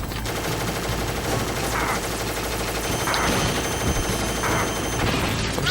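Continuous gunfire during a Metal Gear Solid boss fight, dense rattling shots over a steady loud game background with a few sharper bursts, no talk.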